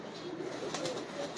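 Racing pigeons of the Miyan Wali breed cooing softly, a low murmuring coo that rises and falls in a steady, continuous stream against a faint hiss, with no talk over it.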